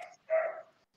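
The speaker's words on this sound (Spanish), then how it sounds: "el perrete tiene buen pulmón de perrete" A dog gives one short, loud bark that is close by and clear, with a faint whimpering tail, heard alone against silence.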